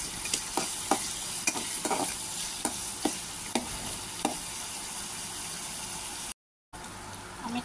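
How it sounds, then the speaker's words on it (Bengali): Onions fry in oil for pulao, making a steady, fairly quiet sizzle with a dozen or so sharp spoon scrapes and stirs spread evenly across it, and a short break near the end. "আমার পেঁয়াজটাও নরম হয়ে আসছে"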